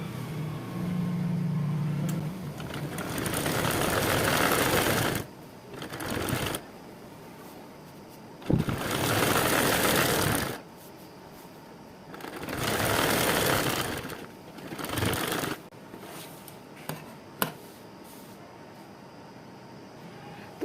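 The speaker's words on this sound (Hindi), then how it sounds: "अब इसी तरह हम यहाँ दूसरी तरफ भी सिलाई लगाएंगे।" A sewing machine stitching the second side of a fabric hanging wall organiser, running in several steady whirring bursts of a few seconds each, separated by short pauses, close and moderately loud.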